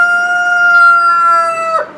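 A pet rooster crows once, loud and close, a long sustained harmonic call that drops off sharply at the end, heard outdoors while a lawn mower is being checked for compression.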